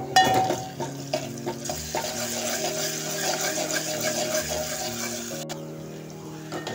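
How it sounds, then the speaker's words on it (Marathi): Onion fries in a pan with ginger garlic paste for an egg drop curry, making a soft sizzle mixed with spoon stirring and scraping against the pan, fairly faint and close. "आलं लसणाची पेस्ट टाकली मी आता."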